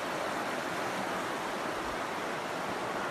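Small waterfall in the Zion Narrows canyon, a dense, steady rushing hiss of falling water that holds constant throughout, close and fairly loud with no voices.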